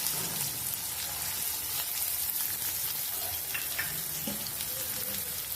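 Sliced onion frying in a tempering of cumin, mustard seeds, curry leaves and asafoetida, a continuous dense crackling sizzle like light rain, with faint stirring knocks.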